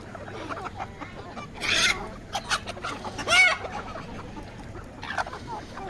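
Several chickens cluck and squawk nearby in short, irregular bursts, with louder flurries of agitated calls as guinea fowl approach, over a quiet outdoor background on a poultry farm.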